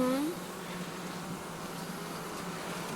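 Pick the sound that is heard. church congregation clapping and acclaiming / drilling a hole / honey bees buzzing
honey bees buzzing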